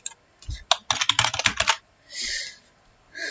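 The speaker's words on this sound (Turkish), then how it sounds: "Bir dakika yazalım." A burst of quick, close keystrokes on a computer keyboard while a message is typed, a dense cluster of clicks followed by a pause and a short soft swish.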